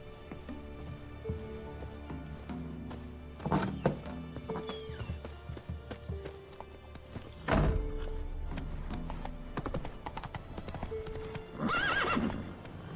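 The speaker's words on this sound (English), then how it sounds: "God, I hate controlling Roach in this game." Hooves clip-clop as the horse Roach moves in The Witcher 3 video game, with irregular bursts of hoofbeats, loud neighs and whinnies, and occasional thuds, close and clear without speech.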